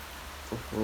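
Steady hiss of rain pattering down, with a voice starting up briefly near the end.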